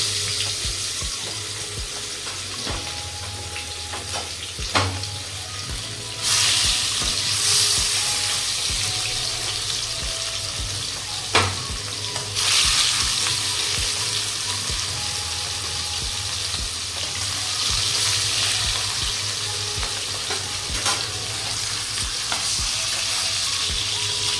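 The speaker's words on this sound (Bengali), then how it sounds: "এবার মাছগুলো ভালো করে ভেজে নেবো লাল লাল করে। তেল গরম হয়ে গেছে, এবার মাছগুলো দিয়ে দিলাম।" Katla fish pieces frying in hot oil in a home kitchen, a continuous loud broadband sizzle with brief pops and swells as the pieces are moved, no talking.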